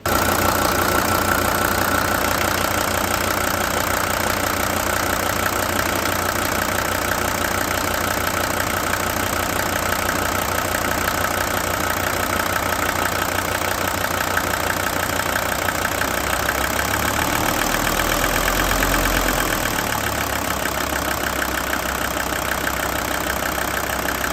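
A 1983 Mercedes 300D W123 diesel, with a leaking Bosch fuel injection pump, idles steadily for the whole stretch with a loud, even clatter and low rumble, close by and alone.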